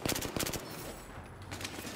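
Short bursts of FAMAS rifle fire in Battlefield 4 gameplay, a quick string of rapid shots at the start, then a pause and a few more shots near the end, close and fairly loud.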